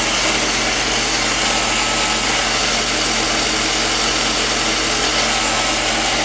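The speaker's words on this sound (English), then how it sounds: "I'm aware of the noise. There's a motor in there that's still got to be looped up. I think it's the brushes." A modified iRobot Roomba fitted with a 20V battery runs continuously, its brush motor giving a steady, loud whirring drone with a high-pitched whine close by and no talk.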